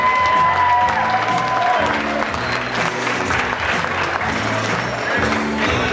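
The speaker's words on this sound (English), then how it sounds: "first a nice big warm applause for the grandmother of the bride" Wedding guests give warm applause for the bride's grandmother during reception introductions, a loud, dense, continuous roar of clapping from a large crowd with some cheering mixed in.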